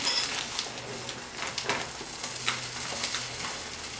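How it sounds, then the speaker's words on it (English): Eggs and potatoes fry gently in a pan for tortilla de patatas, a soft, steady sizzle with faint crackles and a few light scrapes or taps, quiet and close. "You want to make sure all the ingredients are pretty evenly spread out within the pan."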